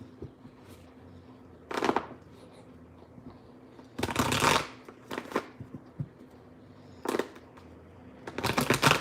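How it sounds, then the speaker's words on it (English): Tarot cards are shuffled by hand in a quiet room, a series of short, crisp riffling bursts separated by pauses, close and moderately loud. "let me just pull some cards and see what comes up"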